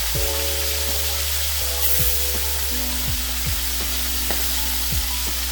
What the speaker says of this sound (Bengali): তেলটা গরম হয়ে গেছে, আমি মাছের মাথাগুলোকে আগে ছেড়ে দেবো।